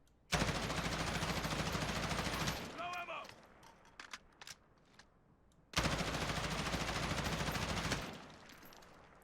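M4 rifle fire in the Warzone video game, two sustained full-auto bursts of about two seconds each, separated by a quieter gap with a few scattered shots and clicks.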